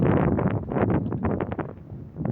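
Steady wind buffeting the microphone, a low rumbling roar with gusty fluctuations throughout, no voices.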